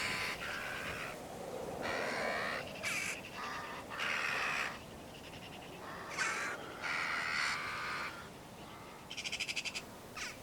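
Crows and magpies caw and chatter in an agitated frenzy over a field at sunrise, repeated harsh calls overlapping in bursts, some near and some farther off, over steady outdoor background noise.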